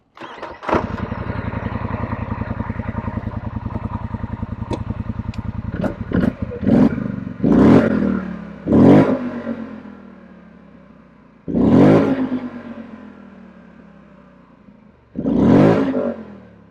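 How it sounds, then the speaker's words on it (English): A Polaris Sportsman XP 1000 ATV engine fires up and idles with a rapid throb, then barks through a series of sharp revs spaced a few seconds apart, each dying away afterward, loud and near. "So I'm going to fire it up for you"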